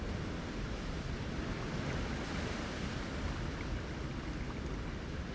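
A gentle, steady breath is blown into a BRIPE coffee brew pipe holding freshly stirred coffee and grounds, making a continuous soft, airy whoosh close to the microphone with no talking.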